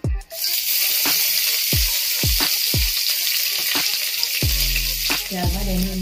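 Cumin seeds and curry leaves sizzle loudly in hot oil, a close, crackling hiss with a string of sharp pops and spits spaced through it.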